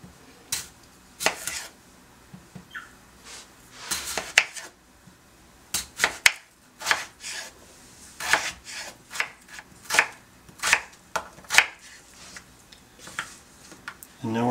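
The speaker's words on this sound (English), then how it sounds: "We've scrubbed the skins on our Yukon Gold potatoes. And now we're going to cube these up the same way into like 1/2 inch cubes" A knife chops scrubbed Yukon Gold potatoes into half-inch cubes on a cutting board, a steady run of sharp, close, uneven knocks with short pauses between bursts.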